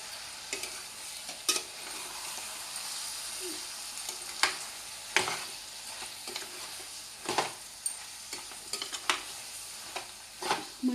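Marinated mutton, coated in onion paste and yogurt, is stirred into a hot pan for Andhra-style cashew mutton curry, with a soft steady sizzle and repeated sharp scrapes and clicks of the spoon.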